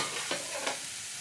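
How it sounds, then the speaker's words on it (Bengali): Vegetable chop filling of potato, peanuts, coconut and fried spices being stirred in a pan, giving two soft scraping strokes over a low, steady sizzle, close by with no voices. "ঢাকাটা খুলে আর একটু নেড়ে দেবো।"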